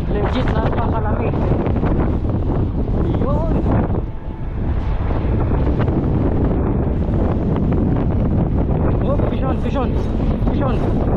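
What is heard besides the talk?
strong wind and rain during a storm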